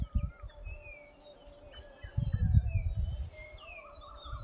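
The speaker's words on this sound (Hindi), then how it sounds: "तरह तरह की चिड़ियाँ सुबह बोलती हैं घाटी में" Assorted birds sing and chirp on a spring morning in a Himalayan mountain valley village in Uttarakhand, several thin calls overlapping at a moderate distance over low rumbling background noise.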